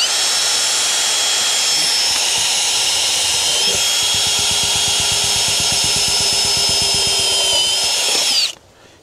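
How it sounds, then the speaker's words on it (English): A power drill whines steadily at high speed for several seconds, grinding through hard metal while drilling a pilot hole, then winds down and stops. "I'll drill a pilot hole, then come back with the larger hole."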